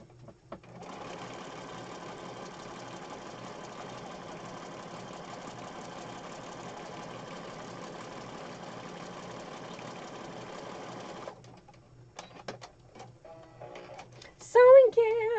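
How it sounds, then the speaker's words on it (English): A sewing machine stitches fabric down an edge in one continuous, steady mechanical whir lasting about ten seconds, then stops, followed by light handling clicks and a short burst of talk at the end. "I'm just going to sew it down the edge here."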